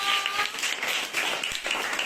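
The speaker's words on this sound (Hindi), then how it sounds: "तो प्रिया के लिए, मिस प्रिया के लिए ढेर सारी तालियां" A small audience claps for Miss Priya, a dense, steady patter of hands that holds for about two seconds at moderate level, with no talking.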